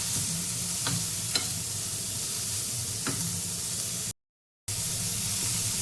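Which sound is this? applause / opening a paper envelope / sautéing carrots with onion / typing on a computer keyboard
sautéing carrots with onion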